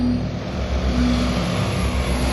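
Vought V-173 'Flying Pancake' propeller aircraft flying on its way to a demonstration at Floyd Bennett naval air station, a steady low droning propeller hum held at a constant level throughout.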